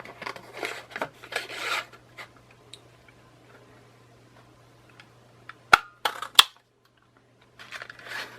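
Scissors snip through brush-pen card samples in a few sharp, close cuts, with softer rustling of card before and after and quiet pauses between.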